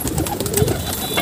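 Pigeons cooing in a continuous low burbling murmur, a flock calling together close by.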